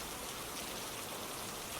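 Soft, steady rain falls in an even hiss, faint and unbroken throughout, with no distinct drops or other sounds.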